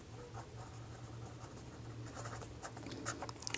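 A pen writes a maths solution by hand, making a steady soft scratching with faint taps near the end, close and quiet, with no talking.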